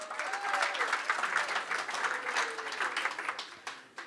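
A roomful of people clapping at a swimming club awards evening, a steady, fairly loud round of applause with a few voices mixed in before it thins out at the end.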